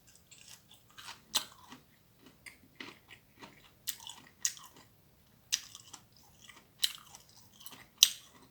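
Close crunchy chewing of thorny tree shoots seasoned with soy sauce, garlic, sesame oil and anchovy and tuna sauces, a steady series of crisp bites and chews about once a second, with no talk.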